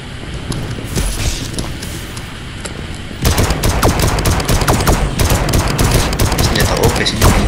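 Rapid gunfire from a powerful weapon in the robot shooter game Armored Head, a steady stream of shots that turns louder and denser partway through, with sharp repeated cracks over the game's background noise.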